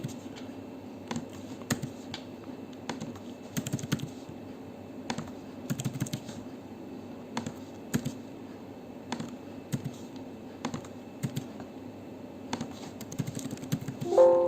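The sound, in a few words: typing on a computer keyboard while entering tax invoice data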